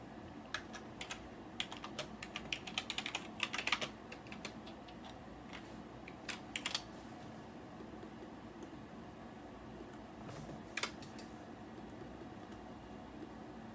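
Someone types on a computer keyboard, quiet irregular clicking in short bursts and pauses, with a cluster of faster keystrokes early on, over a faint steady room hum.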